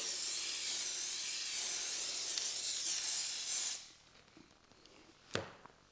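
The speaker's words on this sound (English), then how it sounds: "So spray on some of the layering spray." Aerosol layering spray hisses steadily onto model railway scenery for nearly four seconds, a close broadband spray that cuts off abruptly, followed by quiet handling and one sharp tap.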